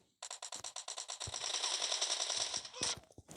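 Rapid automatic gunfire from the video game PUBG Mobile, a fast burst of shots that runs continuously for about three seconds and ends with a few scattered single shots.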